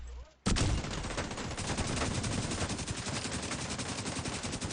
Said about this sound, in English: Yeah, he's shooting at me.